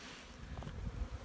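Bees buzzing around small wintering hive clusters outdoors, a faint, low, fluttering hum with some wind noise.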